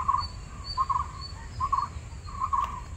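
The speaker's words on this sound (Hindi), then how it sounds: "लो सुनिए किस तरीके से गाते हैं परिंदे।" Birds sing outdoors at an open-air gathering in Bangalore, repeating a bright chirping phrase about four times at a steady pace over a soft, low background hum.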